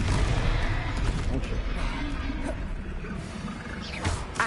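Confringo blasting spell cast in the Hogwarts Legacy video game, a dense rumbling burst of fiery impacts and crackle that stays loud throughout, with a voice shouting over the battle din.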